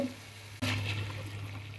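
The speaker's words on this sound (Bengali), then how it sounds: "এখন আমি এর মধ্যে পানি দিয়ে দিব" Water poured into spice paste frying for chicken curry, a sudden hissing splash after a brief quiet moment that settles into a steady bubbling sizzle, close and soft.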